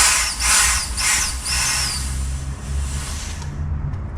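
A Wasp Pole Pro pole sprayer fires at a pest entry point under flashing, making a loud rushing spray hiss in several pulsing bursts, then a longer steady stream that fades out.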